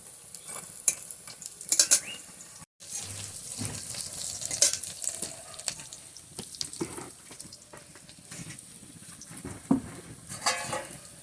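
Pumpkin flower fritters frying gently in oil over low heat, a soft, steady crackle and hiss with occasional utensil scrapes and clinks, close and moderately quiet, without speech.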